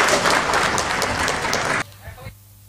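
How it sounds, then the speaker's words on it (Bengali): Audience applause after a call for a big round of clapping at an award ceremony with trophies and citations, a dense loud wash of clapping that cuts off abruptly, followed by a few scattered claps and quiet. "আপনাদের কাছ থেকে একটি জোরে করতালি প্রত্যাশা করছি"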